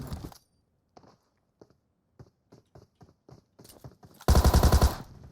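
Gunfire in PUBG Mobile, with a shotgun involved: a run of soft, scattered ticks and steps, then a sudden loud, close burst of rapid repeated shots near the end.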